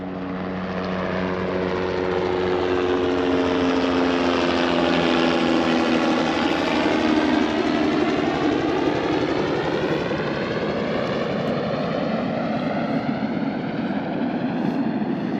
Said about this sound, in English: Sounds like we got a helicopter flying over us.